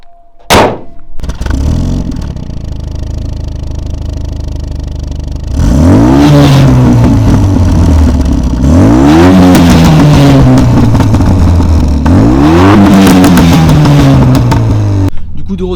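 A Renault Mégane 2 RS on a test drive: the engine starts with a sharp blip, idles, then loudly revs through several rising gear pulls in succession, heard from inside the car.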